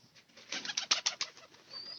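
Pigeons in a loft with their chicks give a quick run of close, soft coos and throaty calls, with a brief rustle of movement toward the end.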